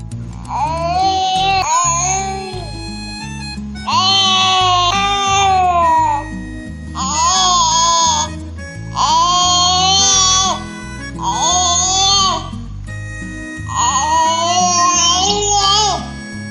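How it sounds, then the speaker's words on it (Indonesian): A six-month-old baby cries and fusses in loud, wavering bursts separated by short pauses, close to the microphone with no other voices. "Bayi usia 6 bulan bisa membuat suara spesifik yang berhubungan dengan emosi seperti suara bahagia dan kesal"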